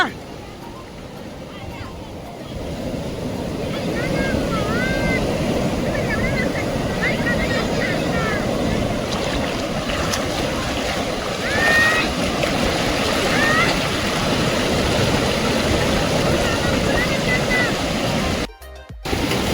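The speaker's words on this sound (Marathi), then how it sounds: "आता बघू शकता तुम्ही मोठ्या लाटा येऊ राहिल्या" Big ocean waves on a beach in Goa roar as a steady, loud wash of surf, heard under people talking nearby.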